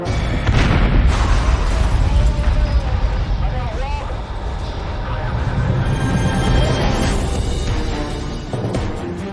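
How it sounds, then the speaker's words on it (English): A gas leak explosion booms and crashes through a strip mall building, followed by rumbling debris and commotion, with voices talking over the noise. "fire truck mounted camera captures the explosion as it rips through the structure"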